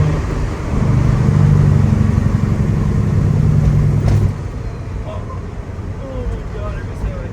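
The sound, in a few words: Peterbilt 379 truck engine with cam running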